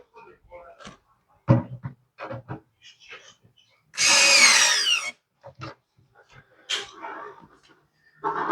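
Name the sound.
power drill drilling hole in wall to mount surfboard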